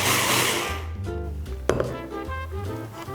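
A small-capacity blender grinds kkakdugi (Korean radish kimchi) seasoning in batches, a loud steady whir that stays close throughout with a brief sharp knock partway through.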